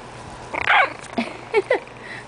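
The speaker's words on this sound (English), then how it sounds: "the little pink girl tried barking" A four-week-old miniature pinscher puppy in a pink collar lets out a few tiny, squeaky barks and yips, close by in a quiet room.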